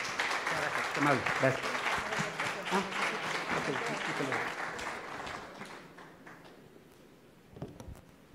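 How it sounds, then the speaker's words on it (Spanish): An audience welcoming a doctor breaks into applause that carries for several seconds under a brief spoken word, then thins out and fades to near silence with a last few scattered claps. "Gran aplauso, por favor."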